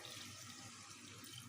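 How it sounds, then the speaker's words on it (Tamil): Water runs in a continuous faint stream as it is poured into a cooking pot for chicken curry, a soft steady splashing rush without voices. "இதுக்குள்ள நான் தண்ணி ஊற்ற போகிறேன்"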